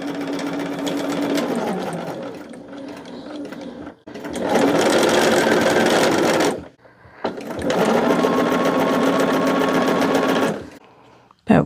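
A sewing machine runs in three long bursts while stitching a seam, loud and close, with short quiet pauses between runs and no talk over the motor.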